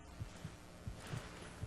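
Slow, muffled heartbeat thumps after a stimpak is used in Fallout 3, about five low beats in quick succession, faint and alone with no talk.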